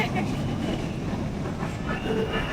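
Light rail (LRT) train rolling along its tracks, a steady continuous rumble with faint clatter heard from inside the car, with some voices in the background.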